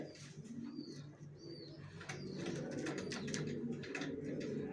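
Racer pigeons coo softly in a loft, low murmuring calls repeating steadily amid a busy bird background, with a few brief higher chirps and faint wing flutters mixed in.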